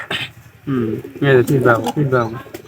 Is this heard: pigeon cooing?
yes